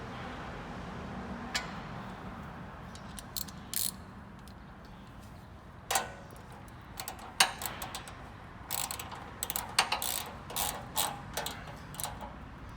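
Bolts on a blue chain guard are tightened with quick, light ratcheting clicks that come in short, irregular bursts, close by and fairly quiet, over a low steady background hum.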